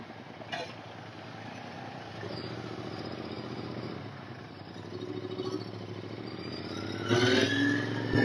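A Royal Enfield Interceptor 650 rumbles along at low revs, a moderate steady engine drone with faint clinks, swelling louder as the throttle opens toward the end.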